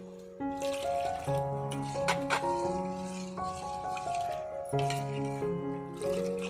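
Water trickles and splashes into thick ragi flour batter, with wet squishing as it is stirred in; steady and close, no talking.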